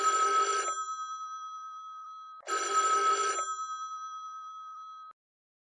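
Telephone bell ringing in two long bursts separated by a short pause, loud and close, with no talk over it.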